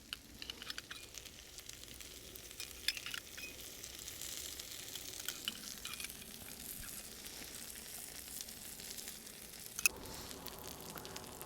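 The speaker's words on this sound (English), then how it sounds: "These potatoes are frying beautifully." Steady crackling sizzle of potatoes frying in clarified butter in a hot pan, with soft pops and light spatters throughout and a brief scrape near the end.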